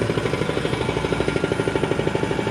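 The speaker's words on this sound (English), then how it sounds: "They just started up with a jackhammer about 5-10 minutes ago." A jackhammer pounds steadily at the SpaceX Starbase launch site in Boca Chica, Texas, its rapid, even, mechanical hammering loud and continuous throughout, with no voices over it.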